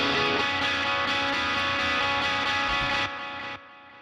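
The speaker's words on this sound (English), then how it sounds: "Let's add this delay here." Electric guitar with a delay effect, dialed in for a particular tone, plays a dense distorted chord that rings out and trails off as repeats cut away near the end.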